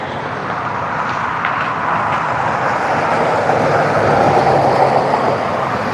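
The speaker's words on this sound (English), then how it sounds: "I always like seeing the Aer Lingus come in." An Aer Lingus Airbus A321 from Dublin arrives at Cleveland airport as a broad, steady jet roar that slowly swells and grows slightly louder over six seconds.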